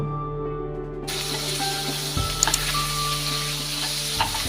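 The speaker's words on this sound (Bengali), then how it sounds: "কচুগুলো জল ঝরাতে দিয়ে আমি এদিকে ইলিশ মাছের মাথাগুলো ভেজে নিব" Hilsa fish heads frying in oil, a dense hissing sizzle that flares abruptly after the first second and continues loud and steady, with small pops and a low background hum.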